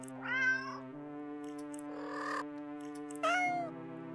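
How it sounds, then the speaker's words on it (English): In a video game, cats make meows and soft munching noises while eating fish. Two clear rising meows are heard, with a steady tonal hum and some chewing-like noise in between. "The sound of happy cats munching away at their fish fills your ears."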